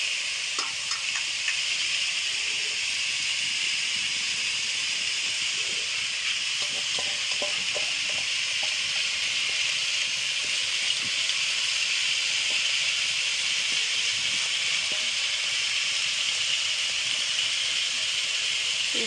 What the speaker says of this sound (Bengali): এটা আমি কিছুক্ষণ ভেজে নেব।